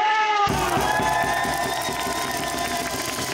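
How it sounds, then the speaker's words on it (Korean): A baseball stadium crowd cheers and claps for a player at a Lotte Giants game, a loud, steady wash of voices with rhythmic applause beneath a sustained tone. "우리 최강희 선수에게 응원의 박수와 함성 한번 치자!"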